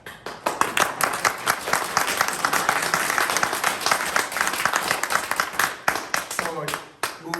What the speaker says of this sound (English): let's save applause for after the meeting